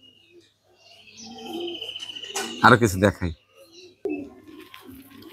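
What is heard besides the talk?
pigeons cooing in the morning on a rooftop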